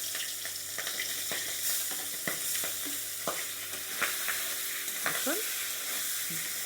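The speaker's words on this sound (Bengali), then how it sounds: "এই দেখুন শিং মাছ আমি লাল লাল করে ভেজে নিয়েছি" Pieces of sing catfish, rubbed with turmeric and salt, fry in hot oil with a steady sizzle, punctuated by sharp scraping clicks of a spatula turning them; a single short word is spoken briefly.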